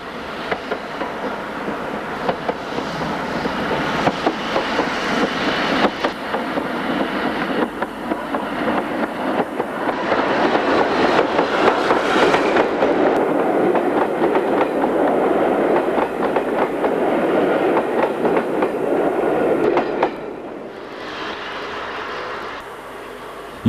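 A steam locomotive hauling a four-coach train rumbles past with steady clickety-clack and a loud mechanical roar that swells, holds, then drops off abruptly toward the end.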